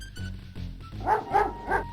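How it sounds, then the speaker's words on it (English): A dog barks in a series of short yapping bursts, about five in quick succession, close and clear in the King's Quest V adventure game while it digs at an anthill. "A bully of a dog terrorizes the poor ants as he playfully digs at their large anthill"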